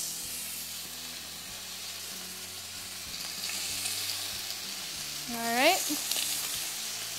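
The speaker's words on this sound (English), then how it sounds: "we're gonna start the trout with 4 strips of bacon" Four strips of bacon frying in a pan, a steady close sizzle and hiss that swells louder midway, with a brief spoken word near the start.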